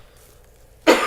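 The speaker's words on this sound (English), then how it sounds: "Still have this cough." A single sharp cough breaks out loud and close after a quiet moment, ending the short stretch with a harsh burst.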